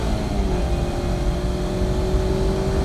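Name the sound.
Mazda MX-5 engine revving on a race track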